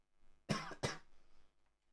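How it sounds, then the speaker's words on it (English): Two sharp coughs in quick succession, close to the microphone and loud against near silence, followed by a fading breathy tail. "I don't know why I'm coughing a lot."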